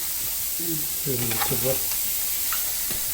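Steady sizzling of food frying in a pan, close and continuous, with a voice speaking briefly over it.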